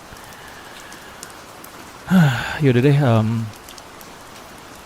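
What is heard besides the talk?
rain falling outside a tent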